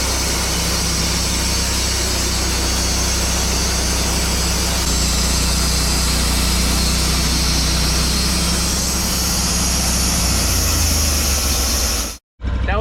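Sawmill making its first cut through a log, a steady loud engine drone with a continuous cutting roar held for about twelve seconds before stopping abruptly.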